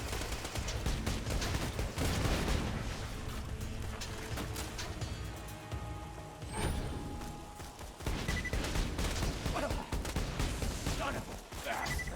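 Axton's deployed turret in Borderlands 2 fires sustained rapid automatic bursts, loud and dense, mixed with explosions and crashing combat noise, continuing almost without pause through the whole stretch.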